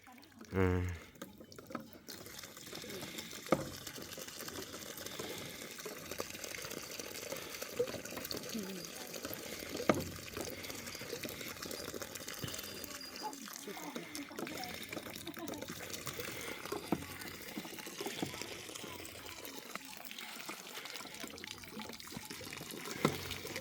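Water pumped out of a newly dug well, at first muddy, runs and splashes steadily at moderate level for the whole stretch, with people talking over it.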